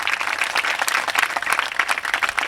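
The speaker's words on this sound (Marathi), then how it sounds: "टाळ्या जरा जिवंत असल्यासारख्या वाजवा" An audience at a kirtan in Shri Kshetra Karsul claps in loud, continuous applause with a crackling, uneven texture that lasts a couple of seconds with no voices over it.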